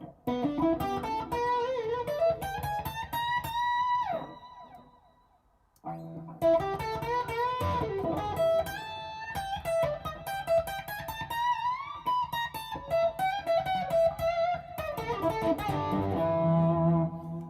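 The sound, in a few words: guitar signal with reverb effect brought in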